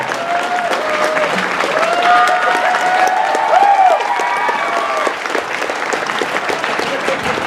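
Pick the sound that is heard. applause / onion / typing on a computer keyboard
applause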